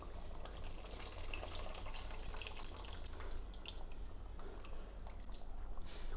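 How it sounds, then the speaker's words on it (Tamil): Tamarind water pours steadily into a pot with a constant low splashing rush, close and uninterrupted for a few seconds. "இப்போ இந்த புளி கரைசலை சேர்த்துக்கலாம்."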